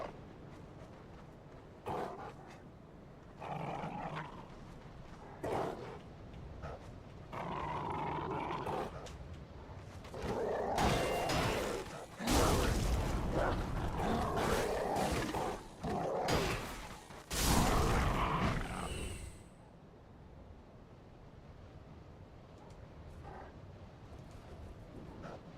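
Enemy dogs barking and snarling in Dark Souls 3 combat, heard as a run of sharp, loud bursts and roars mixed with swishing weapon and shield impacts, growing denser midway before cutting off into quieter game ambience.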